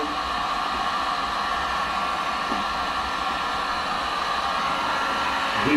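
A heat gun blows steadily as it warms a Ram truck's lens before vinyl wrapping, a constant, close, loud airy rush with no pauses.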